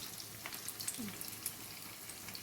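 Potato shami kebabs shallow fry in a pan with a faint, low sizzle, broken by a few soft clicks and light spatters, and no one speaking.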